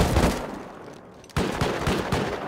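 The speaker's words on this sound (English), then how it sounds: "That's a rocket." A rocket fired during a video game base raid: a loud burst of blasts, a quieter lull, then another heavy volley of rapid explosive bangs close by.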